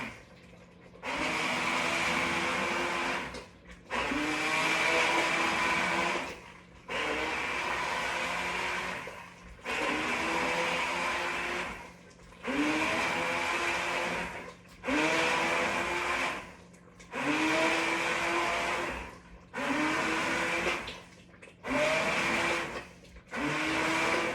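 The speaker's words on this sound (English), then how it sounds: "now I'm just going to take my immersion blender and begin to liquefy it all." An immersion blender liquefies boiled squash in a pot, whirring loudly in about nine separate bursts of a couple of seconds each, with short quiet pauses between them.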